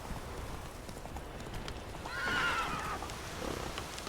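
Roach, a horse in the video game Witcher 3, gallops with steady rhythmic hoofbeats and lets out one clear whinny midway.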